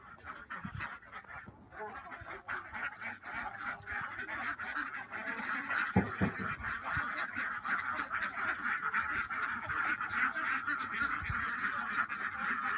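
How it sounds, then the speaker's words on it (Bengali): A flock from a 600-duck farm quacks and honks continuously as the birds file into their house, many calls overlapping in a busy, fairly close chorus. "দেখলেন ৬০০ হাঁসের খামার সুপ্রিয় দর্শক।"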